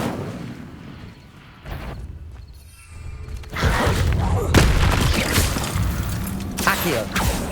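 Incendio fire spell cast in the video game Hogwarts Legacy, a burst of blasting, booming fire effects that swell from a quiet start into a loud, dense roar with repeated sharp hits across the second half.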